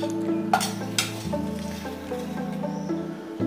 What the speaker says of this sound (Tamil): இப்போ பாருங்கள், இந்த தயிரை வந்து நல்லா கொஞ்சம் இப்படி மிக்ஸ் பண்ணி விட்டுருங்க